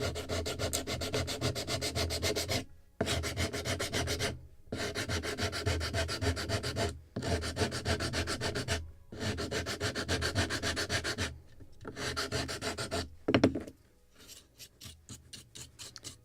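Sandpaper rubs over the wooden hull of a Midwest Muscongus Bay Lobster Smack model ship kit in close, steady back-and-forth bursts of a few seconds each, separated by short pauses, with no talking.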